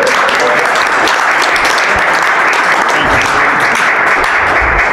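Loud, steady applause from an audience at a community board meeting, honoring a volunteer who worked six years up at the resort; dense continuous clapping fills the room with no break.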